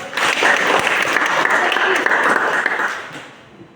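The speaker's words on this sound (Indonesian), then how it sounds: "Tepuk tangan buat." Classroom applause at a vocational school, a burst of many hands clapping at close range, dense and steady, then tapering off toward the end.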